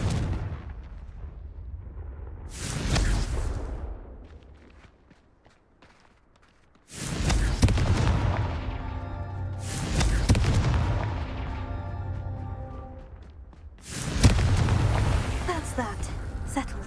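In the Hogwarts Legacy video game, the Confringo fire spell goes off as repeated booming blasts, about four heavy bursts with rumbling tails, separated by quieter stretches of footsteps and ambience.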